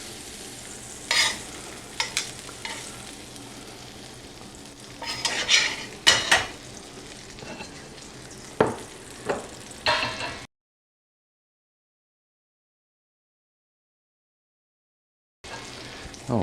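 BBQ sauce worked into broken-apart chicken in a pot, heard as close, intermittent scrapes, clacks and soft sizzle bursts, then several seconds of silence before the stirring resumes.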